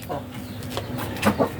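Selected show chickens at a Saigon chicken viewing, a few short clucks close by, with faint background noise.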